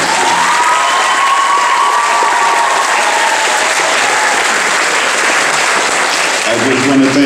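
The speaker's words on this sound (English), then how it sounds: "Give him a round of applause." Audience applause fills a school JROTC Veterans Day ceremony, steady and loud for several seconds with some cheering mixed in, before a voice begins speaking near the end.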